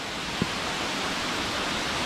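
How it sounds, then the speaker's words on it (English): Steady, dense roar of Sandalsfossen, a waterfall in Norway's Ryfylke region, recorded close by as a continuous broadband rush with no pauses and one brief thump near the start. "This waterfall is called Sandalsfossen."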